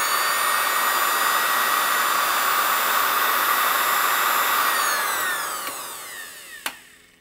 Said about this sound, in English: That fan, yeah, the motor is working great.